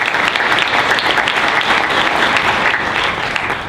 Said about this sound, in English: So let's have a round of applause for them.